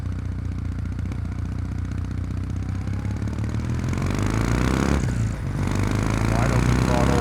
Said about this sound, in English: All low speeds though, just lugging the engine.